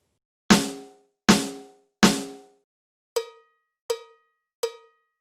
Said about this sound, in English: but choose an entirely different sound for the rim, in this case, a cowbell.